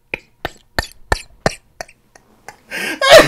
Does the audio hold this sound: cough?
yes